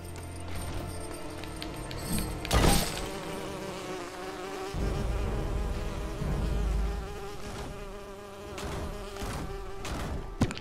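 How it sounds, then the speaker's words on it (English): A bee carrying a key buzzes in the LEGO The Hobbit video game, a continuous droning hum layered with game music and a few sharp clinks and knocks. "Because the bee with the key was gonna go into them."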